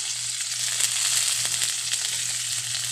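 Onions sizzling in hot oil, a loud, steady crackling hiss close by with a brief stirring knock midway and no talk.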